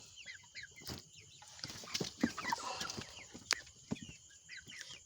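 Deshi chickens, raised to about two kilograms for sale, cluck and chatter irregularly on a farm, with several overlapping calls at moderate distance and no talking.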